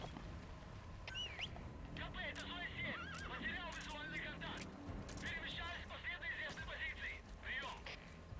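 A horse whinnies repeatedly in the Metal Gear Solid V video game, shrill neighs rising and falling over a busy background of game ambience and hoof clip-clops, with someone talking intermittently.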